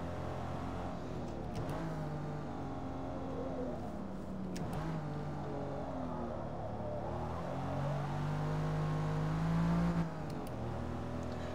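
An Aston Martin DB5 engine drones and revs on the Nürburgring, its pitch climbing through gears with short breaks at shifts, close and loud with no voices.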